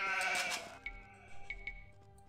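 Sheep bleat in the strategy game Age of Empires 2, several short nasal bleats following a louder burst of game noise, fairly close and alone with no talk.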